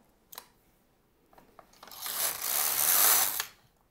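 An LK-150 knitting machine carriage slides across the needle bed to knit a row, a rising rasping mechanical sweep building over about two seconds and then stopping, after a few sparse clicks.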